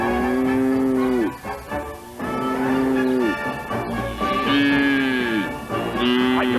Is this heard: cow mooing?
yes